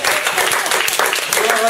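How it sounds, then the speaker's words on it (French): A church congregation claps and applauds during a French-language sermon, a loud, dense, continuous burst of clapping that fills the short moment. "Acclamez pour les Seigneurs."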